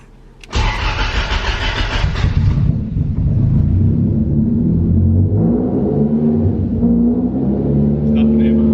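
A Toyota KE70 with a 3SGE Beams engine cranks and fires with a sharp starter whir, then settles into a loud, close, steady rumbling idle.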